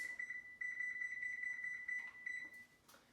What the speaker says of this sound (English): So now I'm going to set my timer for 15 minutes.